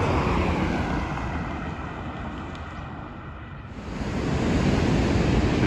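Ocean surf rolling onto a black volcanic sand beach on the Tenerife coast, a loud continuous roar of waves with wind buffeting the microphone, easing briefly before swelling again.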